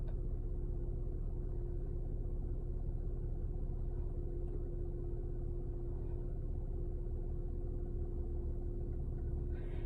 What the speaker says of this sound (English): Like I noticed the difference in the engine, how it was running.